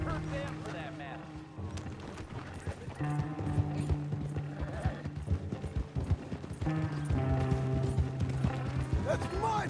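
A horse in the video game Red Dead Redemption 2 clip-clops steadily with a brief whinny, mixed with mechanical ratcheting and wagon-like noises under a continuous game soundtrack, with no clear talk.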